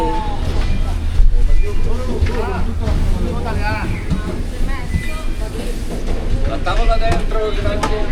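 A train carries passengers through Italy's Aosta Valley, its rumbling run and rail clatter steady and close beneath people chatting over it throughout.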